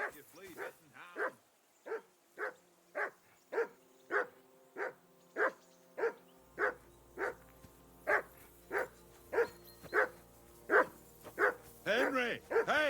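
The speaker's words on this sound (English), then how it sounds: "Call off that mutt of yours!" A dog in Kingdom Come Deliverance II barks repeatedly at a steady rhythm, about twenty sharp barks fairly close and loud, with voices heard around it in the game.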